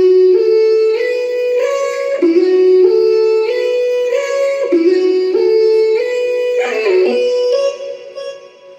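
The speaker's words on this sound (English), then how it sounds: "So there is another vocal chop which plays an important role in this song." A pitched vocal chop sample from the Arcade VST plays a looping melodic phrase of sustained sung syllables that step between notes, loud and clean with no talking.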